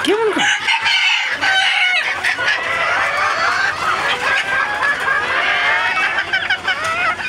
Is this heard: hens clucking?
yes